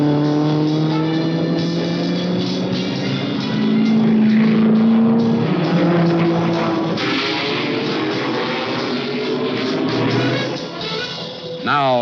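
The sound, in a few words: Ford Mark IV race car accelerating at Le Mans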